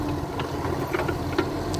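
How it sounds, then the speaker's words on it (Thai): A small excavator's engine runs steadily while felling a tree, a continuous mid-pitched drone with faint knocks and clatter over it, close by and without talk. "มันมีเสียงเครื่องยนต์แทรกเข้ามา"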